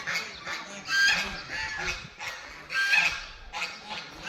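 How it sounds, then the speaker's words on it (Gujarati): White geese honk nearby in repeated loud, nasal bursts that overlap in uneven clusters, with outdoor background noise. "આ બધા ધોળા બતક હંસ બધા હંસ"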